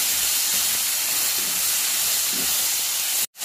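Tomatoes are added to chilli powder frying in hot oil for a chickpea pulao, and a loud, steady sizzling hiss fills the clip before cutting out abruptly near the end.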